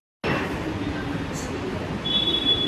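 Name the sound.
metro train at a metro station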